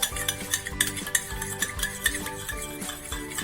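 Bottle gourd dhokla batter with baking soda being whisked hard in a bowl, rapid rhythmic scraping and tapping strokes that repeat steadily and close up over soft background music.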